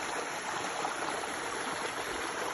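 A river stream flows steadily on a jungle hike to Kwame Falls in St. Mary, Jamaica, a continuous broadband rush of water filling the scene at close range with no voices.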